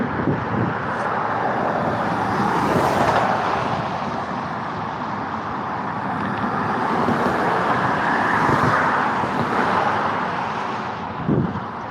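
Road traffic passing, a continuous rumble of cars with a few louder swells as vehicles go by nearby, wind noise mixed in.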